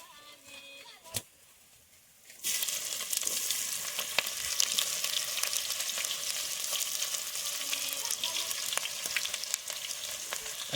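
Onions frying and being stirred in a pan with roasted garlic while cooking egg biryani, with a quiet stretch and a brief knock before a sudden burst of loud, steady sizzling and scraping that continues to the end.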